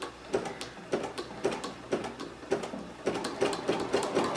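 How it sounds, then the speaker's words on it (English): Sewing machine running a satin stitch along an edge over Solvy stabilizer, a close, steady rhythmic chug of needle strokes repeating about twice per second. "I'm just doing a nice satin stitch here, right along the edge."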